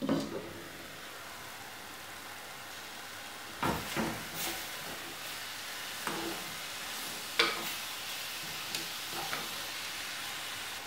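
Masala paste for a netholi (anchovy) peera dish heating in a covered pan on a stove, a soft low hiss with a few louder pops and clatters scattered through, fairly quiet and without speech.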